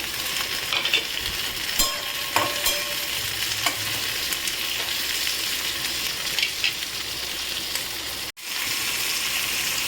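Onions and tomato fry in a pan for chicken do pyaza, a continuous close sizzle with stirring scrapes and occasional spatters, cut by a brief silence near the end before the frying resumes.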